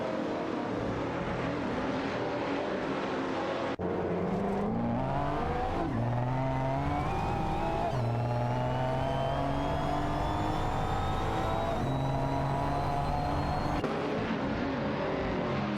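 Video-game racing cars, an Aston Martin DB11 V12 and a Jaguar F-Type Project 7, with engine notes rising and falling through gear changes, a continuous steady whine and rev from start to end, no voices.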